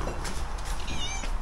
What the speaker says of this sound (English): Another cat, Al?